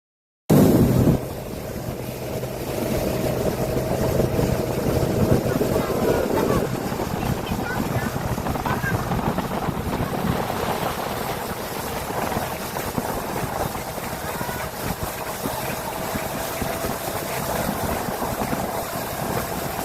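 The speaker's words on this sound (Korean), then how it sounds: "갑자기 보트가 낙동강대교 아래로 쏜살같이 달리기 시작했습니다" A small six-seat motorboat speeds beneath the Nakdong River bridge, its engine a steady loud drone with water rush from a sudden start to the end.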